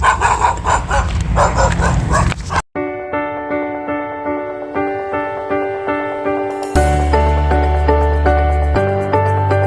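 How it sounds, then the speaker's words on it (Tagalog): A burst of dog barking and yipping opens the clip, then cuts abruptly into loud music that continues to the end. "uy may aso"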